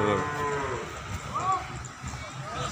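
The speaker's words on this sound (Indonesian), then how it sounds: "kondisinya seperti ini di pasar sapi Imogiri Bantul" Peranakan Ongole cattle moo at the Imogiri cattle market in Bantul, Yogyakarta. Short, close lowing calls rise over a busy market din of background voices and activity.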